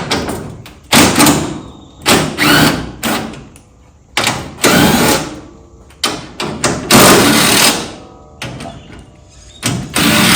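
Panel being worked loose near the radiator of a 1972 Chevrolet Nova: a series of loud, close thumps, knocks and metallic clatter in bursts with short pauses, no talking.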